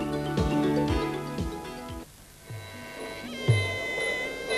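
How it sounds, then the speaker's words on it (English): Live Muay Thai ringside orchestra at a televised Thai boxing bout on Channel 7: a nasal, wailing reed melody with sliding pitches rides over steady low drum thumps, loud and continuous throughout. "And that's the sound of the Ramue Live Orchestra."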